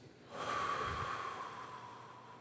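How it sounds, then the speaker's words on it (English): A crowd at a university opening convocation ceremony breathes together in one long, steady, airy exhale, loud and sustained for about two seconds, then trailing off with no talk. "Now, please join me in taking a deep breath in. And out."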